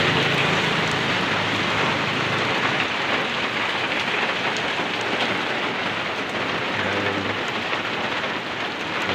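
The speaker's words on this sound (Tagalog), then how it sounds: "Ulan na naman." Steady, dense rainfall pouring continuously, a loud even hiss with no voices.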